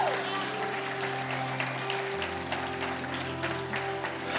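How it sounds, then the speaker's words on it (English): Church congregation at an Easter service clapping hands in steady applause, a dense wash of claps over a low sustained music drone throughout. "I want to give a big hand clap to those that made the decision today"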